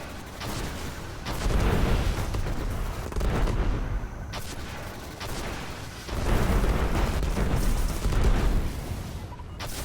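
Rockets fire in Destiny's Atheon boss fight, heavy booming blasts swelling in waves over dense game noise and music, loud and continuous with a few surges.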